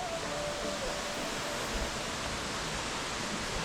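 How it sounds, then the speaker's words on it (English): Waterfall flowing in a canyon near a campground, a steady broadband rush of falling water that holds even and continuous throughout, with no talk over it. "Good for the waterfall."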